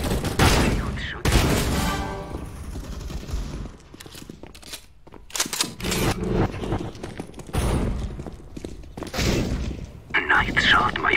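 Sniper rifle shots in Counter-Strike: Global Offensive, loud sharp cracks repeating every few seconds among game effects, with a voice talking over the action.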